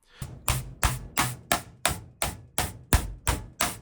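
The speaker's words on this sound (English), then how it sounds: "we try to destroy it manually using a hammer" Eleven sharp, loud hammer blows land at a steady rhythm on a Cobo tablet, each impact ringing briefly before the next strike.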